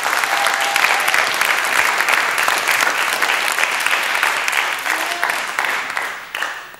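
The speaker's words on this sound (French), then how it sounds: "On peut l'applaudir une nouvelle fois d'ailleurs" A French television game show studio audience applauds a contestant, loud sustained clapping from many hands that tapers slightly near the end.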